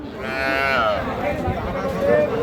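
A calf moos loudly and drawn-out at a cattle market, close by, with a voice talking faintly underneath.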